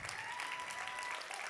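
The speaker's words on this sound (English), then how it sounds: "Keep clapping." A church congregation keeps up sustained, even applause, a thick continuous patter of many hands clapping at once.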